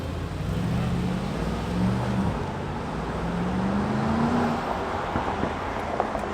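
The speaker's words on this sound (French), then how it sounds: "une GT3 Touring qui passe." Porsche GT3 Touring passing on a Monaco street during the 2024 Grand Prix weekend, a steady engine drone rising slightly in pitch over continuous traffic noise, no talk.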